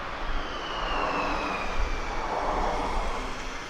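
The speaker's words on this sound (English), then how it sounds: "And just behind there we've got our other arriving F-15." An F-15 fighter jet arriving at RAF Lakenheath, a steady broadband jet roar that holds at a constant level throughout, heard from a distance with a faint whine running above the rumble.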